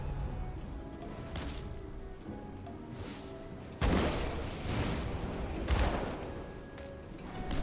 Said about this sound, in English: I think the sound when you shoot has pretty decent oomph